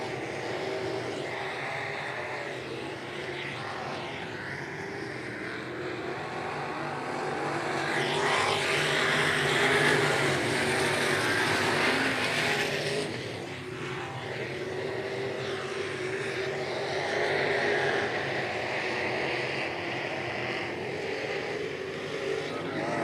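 Wingless sprint cars race around a track at night, their engines a loud, continuous roar that swells and fades as the pack passes, carrying on steadily for the whole stretch.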